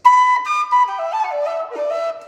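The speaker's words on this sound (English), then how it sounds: "it's kind of like a one-toned whistle. It's just hard, in your face." A Chieftain V4 horn blasts a hard, throaty single-toned whistle, loud and close, holding with slight pitch wavers for about two seconds before cutting off, no voices present.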